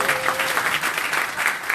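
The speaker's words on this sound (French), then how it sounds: "Je vous demanderai vraiment d'applaudir très très fort." Audience applause at a lecture event in Natanya, a dense, steady patter of many hands clapping together throughout, fairly loud and close, with a faint voice briefly audible underneath.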